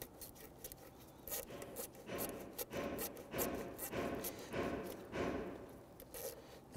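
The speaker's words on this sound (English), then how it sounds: "when tightening this here, you're gonna feel that hose clamp snug down" Repeated scraping and ratcheting strokes come up close while a hose clamp is tightened on the throttle body of a 2008-2013 Infiniti G37 3.7L V6, steady rhythmic turns with no talking.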